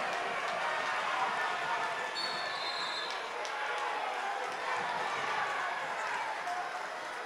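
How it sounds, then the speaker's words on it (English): A high school basketball crowd keeps up a steady, lively roar in a gym, with shoe squeaks and a whistle-like tone, while an announcer talks over the noise. "This crowd is alive here"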